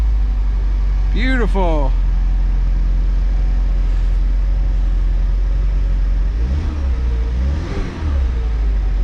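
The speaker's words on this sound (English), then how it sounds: "That's it, first time startup. She runs." A 2008 Saturn Sky Redline fires up for the first time after a battery change, with a starter whir, then a steady idle and a couple of rising revs, while someone speaks briefly nearby.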